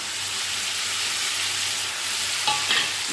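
Snake gourd and shrimp frying in a pan with steady broadband sizzle throughout, a low hum underneath, and a couple of utensil scrapes and stirring clinks near the end; no talking.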